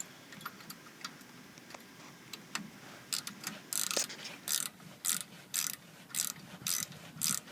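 A ratchet with a 1/2-inch socket tightens rear brake bolts on a 2007 Ford F250, first in light ticking clicks, then in a run of loud, regular ratcheting bursts close to the mic.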